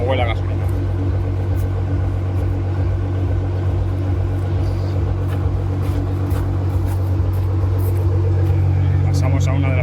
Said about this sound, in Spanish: Y aquí tenemos arrancado el Nissan GT-R, que es precioso y como huele a gasolina.